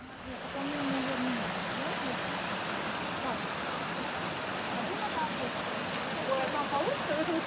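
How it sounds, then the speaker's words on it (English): A small waterfall beside a mountain hiking trail near Almaty, Kazakhstan, pours with a steady close rushing hiss, as people talk briefly over the water. "All right, we got a little waterfall here."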